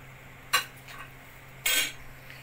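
Sweet chili sauce stirred in a pot with a utensil, giving two brief metallic scrapes and clinks of spoon against pot, the second longer, over a quiet steady hum.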